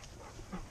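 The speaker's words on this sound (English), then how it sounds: "Don't you bark at me." A dog barks and whimpers briefly at close range, a short yelp rising near the end of a quiet moment outdoors.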